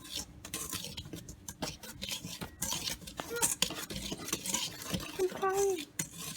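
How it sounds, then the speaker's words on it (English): A whisk stirring dry muffin ingredients with cinnamon in a bowl, rapid uneven scraping and tapping strokes against the bowl, close, with brief voices and a squeaky sound near the end. "So Jacob is actually going to just whisk that together, just to get it all evenly combined"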